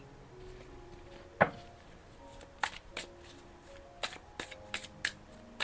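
Oracle cards are shuffled by hand in a quiet room, with soft riffles and sharp snaps of card edges sounding close and irregular, sometimes bunched into quick bursts.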